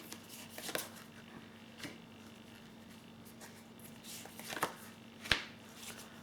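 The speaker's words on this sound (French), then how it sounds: "je vais tirer les 2 cartes prévues" Two tarot cards drawn from a deck during a reading, heard as a few faint, sharp card snaps and slides spaced apart over a quiet, steady background hum.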